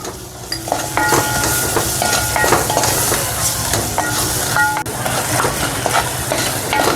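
Masala with tomatoes and salt fries loudly in a pan for palak mutton, a dense constant sizzle with rhythmic scraping and metallic stirring strokes close by.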